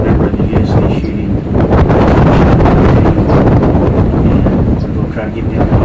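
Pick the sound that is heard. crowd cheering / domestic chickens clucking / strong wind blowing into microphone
strong wind blowing into microphone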